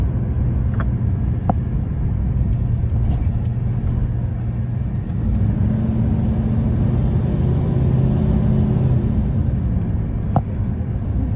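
Cars idling and creeping in a traffic jam on a Belize City street, a steady close engine rumble with passing vehicle noise throughout, and no talking.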